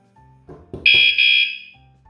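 A Vanolarm Lite vibration alarm sounds a loud, shrill pre-warning beep lasting about a second, right after a few soft taps on a table, then falls quiet.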